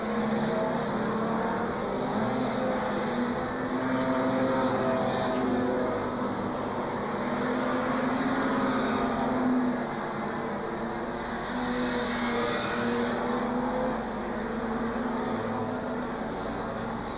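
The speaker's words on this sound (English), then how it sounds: "And here comes the Mini, just comfortably driving around." Race cars circle a speedway track, among them a Mini, with a steady loud engine drone and rising, falling roars of several cars carrying through the whole stretch, with no talk.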